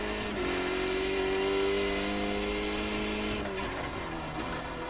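Race car engine in a racing video game, held at a steady high drone that falls off partway through as the throttle lifts, loud and continuous with no talk.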